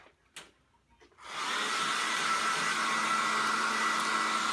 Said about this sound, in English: I'm gonna get a hair dryer